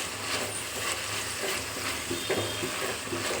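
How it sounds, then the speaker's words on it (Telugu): Coriander, mint, chillies and tomatoes fry in oil in a pan, giving a steady close sizzle with occasional stirring scrapes throughout. "ఆయిల్ వేసుకున్న తర్వాత వీటిని బ్రౌన్ కలర్ వచ్చేసేపు వేయించుకోవాలి కదా."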